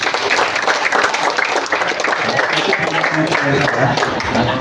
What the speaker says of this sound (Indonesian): Tepuk tangan buat teman-teman yang tadi.